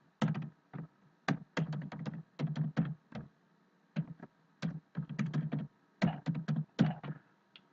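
Bursts of keystrokes on a computer keyboard while an email address is entered, quick clustered taps in several runs separated by short pauses, close and clear with no talking.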